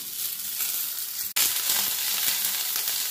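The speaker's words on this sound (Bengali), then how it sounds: "রাঙা আলুটা দিয়ে পটল আলুর সঙ্গে একটু ভাজা ভাজা করে নেব।" Sweet potato, pointed gourd and potato fry together in a pan for chapor ghonto, a loud, dense, close sizzle that drops out for an instant and then resumes just as strongly, with no talk.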